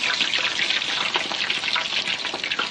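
Prawn, potato and shiso tempura frying in oil, a dense, bright crackling sizzle that stays close and loud throughout with no voices.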